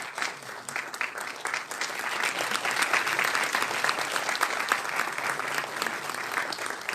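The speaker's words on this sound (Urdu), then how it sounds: "آپ تالیوں سے آپ کا استقبال کیجیے." An audience at a World Urdu Association inaugural event in Dubai applauds a memento presentation. Dense, continuous clapping swells and holds for several seconds.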